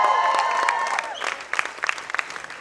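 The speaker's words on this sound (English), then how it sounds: "Clap." An audience claps at a live comedy show, a dense burst of applause that starts strong and thins into scattered claps over a couple of seconds.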